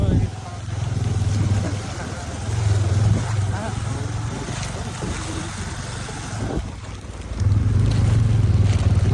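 A motorbike rides a rough, broken off-road trail on the way to Kokhe Dada, its engine a steady close drone that swells and dips, with voices talking over it.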